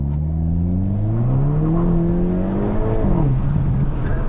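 A 2022 Hyundai Kona N small performance SUV floored at full throttle, its engine note climbing steadily through the revs, a loud, continuous rising drone with a brief dip as it shifts, no talking.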